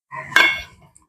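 A metal spoon clinks against a bowl while stirring vinegar into cooled milk, a single short scrape and chime, close and clear with no talking.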